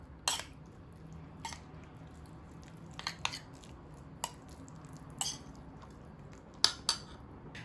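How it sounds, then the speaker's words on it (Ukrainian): Spoon stirring a salad dressing with tomatoes in a bowl, sparse irregular clinks and wet squishes spaced a second or so apart, close and fairly quiet against a soft background. "Тепер перемішую всю цю нашу заправочку."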